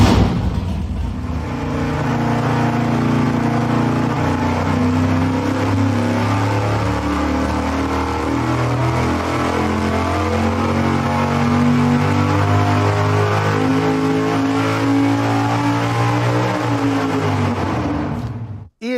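A V8-style engine on an engine dyno runs on pump E85 fuel, a loud, sustained, steady roar at high load that holds for most of the run before cutting off abruptly.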